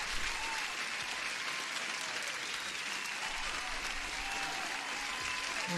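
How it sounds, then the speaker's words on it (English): Steady applause from a small crowd, even and continuous, heard at a moderate distance. "Applause for Renwolf."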